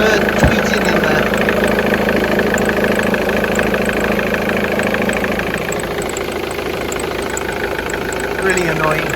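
A car engine idles steadily with a persistent high, bird-like chirping from a worn pulley wheel running through it, close and continuous for the whole stretch.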